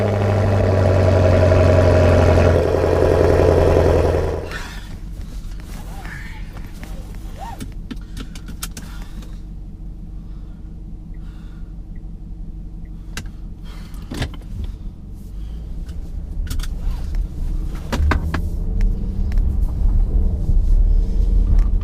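Car engine running, a loud rumbling idle at first, then quieter engine hum with clicks and shifting sounds, rising again toward the end.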